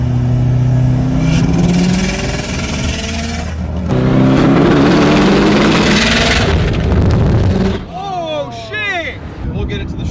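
A 2006 Subaru WRX STI with 200,000 miles drives with a loud engine drone that rises, drops and rises again as gears change, heard from inside the car with people talking over it.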